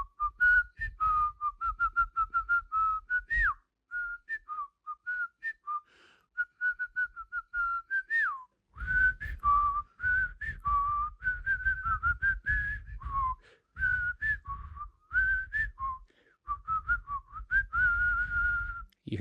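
A childhood tune whistled by a single person, a clear wavering melody carried in phrases with short breaths between them, close and alone with no talk.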